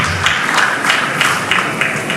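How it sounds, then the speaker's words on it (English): An audience at a gathering of Nollywood stars with a former Delta State governor claps in a loud, dense burst of applause that keeps a rough pulsing rhythm through the short stretch. "Please, a round of applause for this wonderful."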